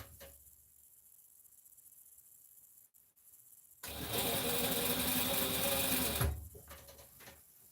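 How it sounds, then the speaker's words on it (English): Sewing machine stitching bias binding onto a dress, a quiet hum at first, then a loud steady whirring run of rapid needle stitching for about two and a half seconds before it stops. "I'm almost finished sewing the binding on."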